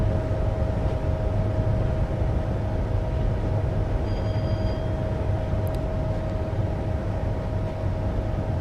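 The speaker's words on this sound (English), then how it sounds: "I'm aiming to stop at the end of the platform to ensure that the whole train fits." Class 390 Pendolino electric train running on the Preston to Carlisle line near Oxenholme in Train Simulator 2015, a steady loud rumble of motor and wheels with a constant whine, a few brief high squeaks midway.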